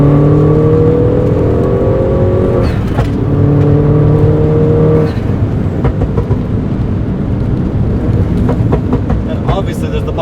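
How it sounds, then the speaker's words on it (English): A modified 2012 Mini Cooper JCW with stock JCW exhaust and catless downpipe drones steadily with a deep, buzzing exhaust note, briefly shifting pitch as the revs change twice before settling into a rougher rumble. "Has a stock JCW exhaust along with the catless downpipe"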